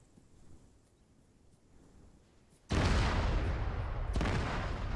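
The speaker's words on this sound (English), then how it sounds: "it will only explode when I activate the trigger we have set up." IED explosions triggered in ArmA 3 go off as a sudden loud blast after quiet, then roll into a sustained rumble with a second detonation layered on near the end.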